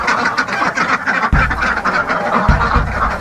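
Ducks and geese honking and quacking in a farmyard during Saturday morning chores, a dense, loud, continuous clamor of many birds close by, with a couple of sharper low thumps partway through.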